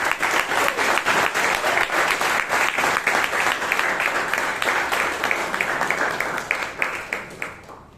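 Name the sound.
loud round of audience applause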